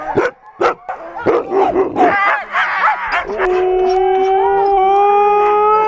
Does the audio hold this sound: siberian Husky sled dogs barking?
yes